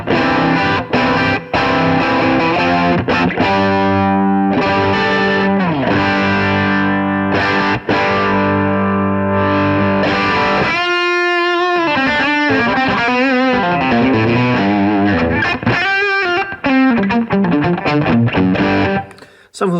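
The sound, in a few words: electric guitar, Seymour Duncan Little '59 pickup, full humbucker mode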